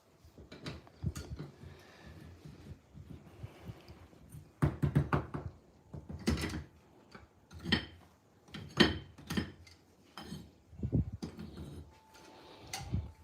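A cast silver piece being knocked out of a mold, giving a series of sharp, close metallic knocks and taps in irregular bursts, loud and alone.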